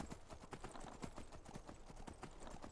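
Horse hooves clop in the Skyrim video game in a quick, steady rhythm of sharp hits, faint and close, with no talking over them.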